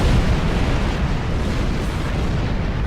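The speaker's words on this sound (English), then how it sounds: "Let's just turn away from the explosion." An enemy starship explodes in the space combat game Star Trek Online, a loud, sustained rumbling blast that fills the whole moment without speech.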